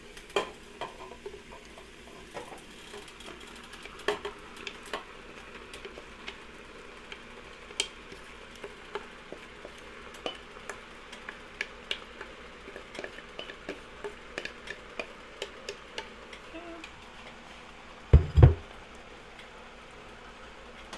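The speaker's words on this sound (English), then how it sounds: "We're going to go ahead and throw our corn in." Corn kernels stirred into softened, sweating vegetables in a pot for corn chowder, with a low steady sizzle broken by scattered scrapes and clinks of the spoon and one louder knock near the end; no one speaks.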